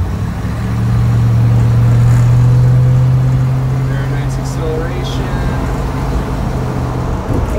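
A 1966 Ford Econoline pickup truck's engine pulls while driving, a loud, steady droning hum that swells early on, then holds under road noise, with close interior rumble.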